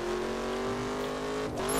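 A Lamborghini Aventador accelerates in The Crew on a four-lane road, its engine note climbing steadily in pitch as a loud, close, sustained roar, with a brief shift near the end.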